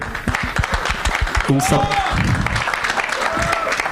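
An audience at a film event for Hate Story 3 applauds in a loud, steady burst of clapping while a person speaks over it.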